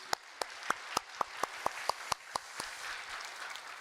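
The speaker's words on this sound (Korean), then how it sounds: "열심히 잘해달라고 뜨거운 박수로 한번 격려만 하겠습니다" Congregation at a church service clapping together for the choir and worship team, a run of sharp, evenly spaced claps that soon blurs into a diffuse wash of applause.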